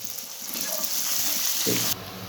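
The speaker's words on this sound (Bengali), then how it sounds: "পেঁয়াজটা খুব সুন্দর ভাজা হয়েছে" Onions with salt frying in a pan for dhaba-style chicken, giving a steady, close sizzling hiss that runs throughout, with a short stirring shuffle near the end.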